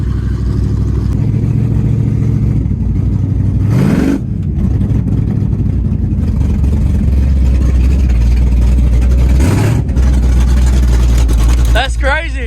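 A 347 stroker V8 in an EB Falcon skid car rumbles loud and close, surging in revs with two sharp rising sweeps amid a noisy burnout setting, with voices talking over it.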